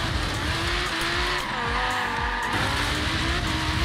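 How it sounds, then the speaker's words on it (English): A car drifting through turns in Forza Horizon 3, its engine droning steadily with a sustained tire squeal sliding in pitch over the top, loud and continuous throughout. "Like, why can I just easily drift in this car?"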